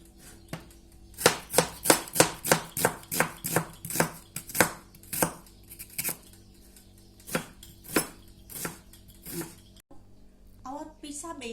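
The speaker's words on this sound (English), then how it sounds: "This time we can cut the onion, tomato, and the green pepper" A knife chops onion, tomato and green pepper on a board, a quick run of close, sharp taps that slows into scattered cuts.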